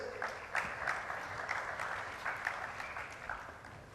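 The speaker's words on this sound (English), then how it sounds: "a loud round of applause as I welcome Vice Chairman, Shoppers Stop" Conference audience at an annual global investor event applauding as a guest is welcomed on stage: a sustained round of clapping from a large crowd, steady and moderately loud throughout with a few sharper claps standing out.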